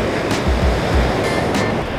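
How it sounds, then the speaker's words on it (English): Ocean surf rolls onto a sandy beach beside a beachside breakfast spot, a loud, continuous wash of breaking waves with steady roaring noise and wind across the microphone. "The view of the ocean."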